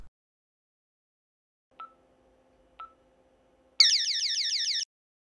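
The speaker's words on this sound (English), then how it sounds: "an acoustic alarm sounds when a sensor is triggered" A Protect 9xxx home alarm system gives two short, quiet beeps, then a loud, warbling electronic siren that lasts about a second before it stops abruptly.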